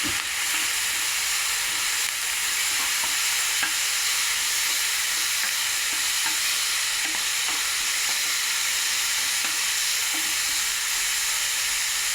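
Prawn fry hisses steadily in a hot pan as a utensil stirs and scrapes through it at irregular intervals, a close, continuous sizzle with no voices.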